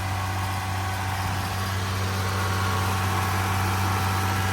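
A car engine idles close by with a steady, even hum and a low vibration that holds unchanged throughout.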